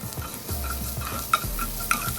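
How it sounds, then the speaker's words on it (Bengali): Chopped onions go into a pan after asafoetida and fry with a soft, steady sizzle, with clinks and scrapes of stirring and two sharp metallic taps near the end. "তো এরপরে হিংয়ের পরে দিচ্ছি অনিয়ন কুচি"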